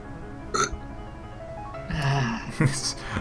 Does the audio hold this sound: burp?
yes